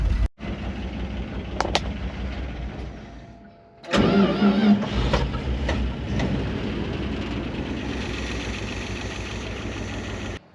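A Dodge D600 truck that sat unused for over 23 years cranks, fires and catches, then settles into a loud rough idle after a few clanks and a brief lull, close by without speech.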